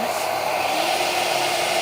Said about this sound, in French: Je vais allumer mon aspirateur avant